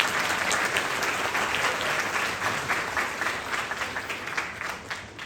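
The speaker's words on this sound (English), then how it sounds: "A round of applause for your parents." A crowd at an 8th grade graduation ceremony applauds the students' parents: full, sustained clapping from many hands that holds steady, then thins slightly into more distinct claps toward the end.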